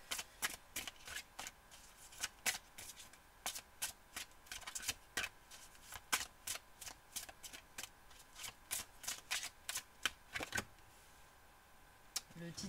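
Oracle cards being shuffled by hand, a rapid run of crisp riffling snaps and flicks in irregular bursts, close and fairly quiet with no talking over them.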